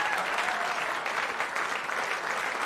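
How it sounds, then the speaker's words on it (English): A concert hall audience at a pianist awards evening applauds steadily, a dense, even wash of clapping that carries through the whole moment. "Ladies and gentlemen, a round of applause for these fine"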